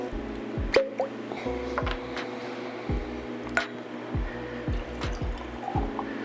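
Old Forester 117 bourbon is poured into a glass, heard as close, gentle liquid glugs and drips in an uneven rhythm over several seconds with no talk.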